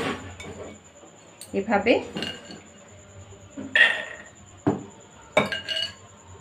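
A pressure cooker is handled and peas are tipped in, giving several sharp metallic clinks and clatters of cookware in bursts, close by, with brief speech.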